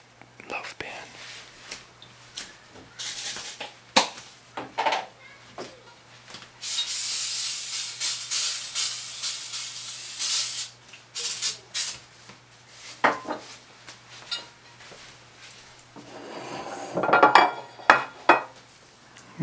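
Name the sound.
spraying grease into a loaf pan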